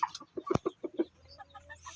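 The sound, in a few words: chickens (pullets)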